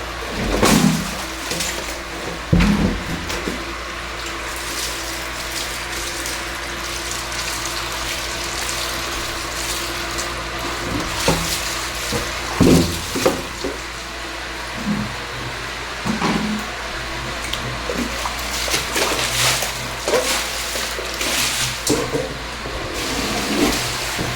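A steady electric water pump hums alongside running water filling a basin, with occasional clunks and splashes over a continuous rushing flow.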